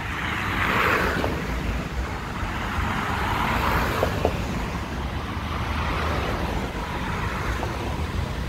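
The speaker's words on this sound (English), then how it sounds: "Nice tanker coming in there." Milk tanker truck rolling in on a Montreal street, a steady broadband road rumble of engine and tires that swells slightly and holds, with a couple of faint clanks partway through and no talking.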